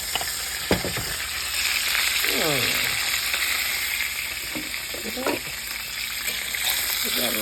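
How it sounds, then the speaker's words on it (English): Fried chicken sizzles steadily in a frying pan, a constant bright hiss throughout, with a few brief clinks and utensil scrapes layered over it. "We got a little fried chicken going on."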